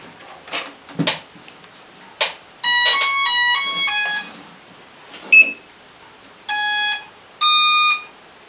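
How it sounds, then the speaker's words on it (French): A Hubsan Zino 2 drone's remote controller gives off loud electronic tonal beeps, several sustained bursts and a short chirp, mixed with some clicks and handling knocks at the start. "ce que vous entendez, c'est la radiocommande qui bip"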